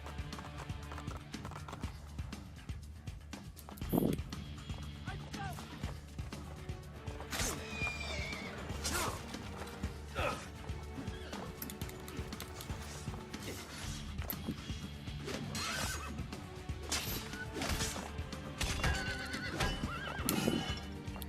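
Horses neigh and hooves clip-clop in Assassin's Creed 2 while the rider travels on horseback, the hoofbeats rhythmic and steady with sharp whinnies rising above them and game music running underneath.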